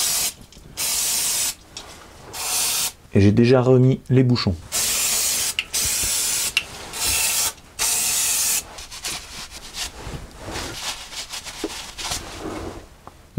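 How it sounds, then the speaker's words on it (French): Repeated loud hissing bursts of brake cleaner sprayed onto an oily car rear differential, each blast lasting about a second or two with short gaps, someone speaking briefly in between. "donc je vais dégraisser au nettoyant frein"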